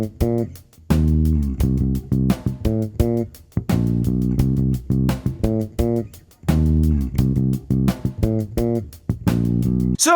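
A bass guitar plays a syncopated groove in C Dorian with ghost notes, short punchy notes in repeating sixteenth-note figures with brief gaps, loud and close, with no voices.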